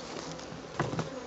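Honeybees buzzing busily at an active beehive, a dense close hum with a brief louder swell as bees pass near, no voices.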